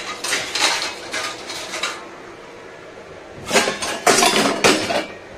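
Dishes, pots and cutlery clatter and clink as a small load of utensils is put away in a home kitchen, two separate bursts of handling with a quiet pause between, fairly close.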